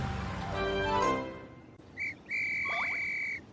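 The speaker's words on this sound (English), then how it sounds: "Suddenly, Kip heard a loud whistle." A police officer on a busy street blows a loud, shrill whistle: one short blast, then a longer sustained one, close and piercing.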